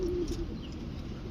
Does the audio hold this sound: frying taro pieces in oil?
no